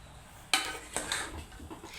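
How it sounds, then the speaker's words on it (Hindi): Coloured sweet rice in a pot being mixed, one sharp clatter of a spoon against the pan followed by softer scraping and stirring, close and moderately quiet. "अब इसे अच्छे से मिक्स कर लें ताकि कलर सारे चावलों में मिक्स हो जाए।"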